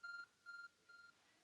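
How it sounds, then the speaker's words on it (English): Three repeated electronic beep tones from the R-phone device in the Pokémon Legends: Arceus video game, each about a quarter second long with short gaps, clear and alone. "Your R-phone is beeping."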